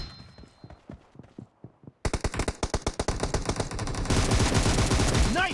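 Shooting-game gunfire starts as spaced single shots, then becomes loud, rapid automatic bursts that swell into a dense roar of fire toward the end.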